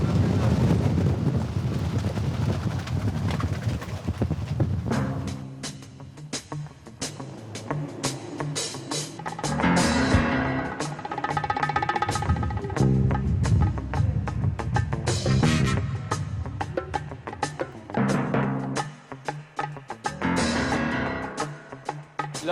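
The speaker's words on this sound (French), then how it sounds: "Là, il y a un bon coup de Mistral." Strong Mistral wind gusting over the Rhône on a river cruise boat, a heavy continuous roar buffeting the microphone in surging waves, with a voice faintly talking underneath.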